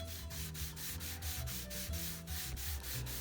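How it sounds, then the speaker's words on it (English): A Marantz SD333 cassette deck being sanded with 1000 grit sandpaper: quick rhythmic back-and-forth rubbing strokes, about three per second, close and fairly quiet, with no talking. "So finished off with 1000 grit sandpaper"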